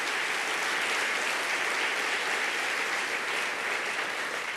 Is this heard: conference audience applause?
yes